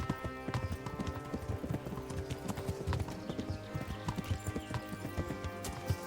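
Horse hooves clip-clop in a steady, fairly brisk rhythm in a medieval video game, close and clear, with faint background sounds and no talk.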